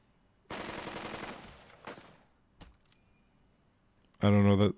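Machine gun fire in the World War II tactics game Burden of Command: a rapid burst of shots, then a few scattered single reports fading away, before a loud harsh blast at the end.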